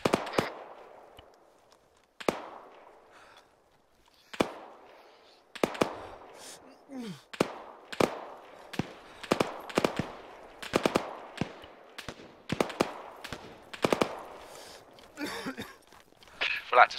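Rifle fire crackles in the military game Arma 3: sharp single shots and short bursts at irregular intervals, growing more frequent toward the end, mixed near and farther off, with radio-style voices between shots.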